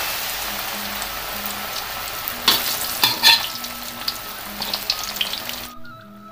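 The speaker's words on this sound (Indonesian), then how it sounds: "Kita akan goreng ya di minyak panas." Banana pieces sizzle and crackle steadily in hot oil, loud and close, with a few sharper pops and stirring clatters partway through before the frying noise suddenly drops away.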